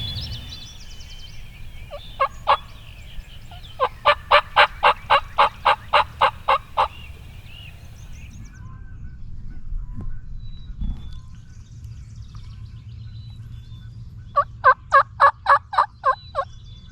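Wild turkeys gobble from a distance in the woods, two bursts of rapid rattling calls, one short call near the start, a long string around the middle and another burst near the end, over quiet low background rumble.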